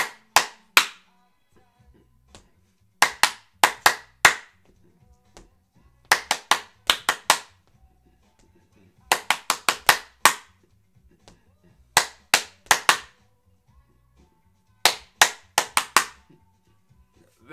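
Groups of sharp hand claps in short rhythmic bursts of about three to five, separated by quiet pauses, from a clap-back rhythm game at a music academy session; close and crisp with no talking.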